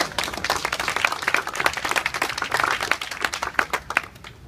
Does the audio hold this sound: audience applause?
yes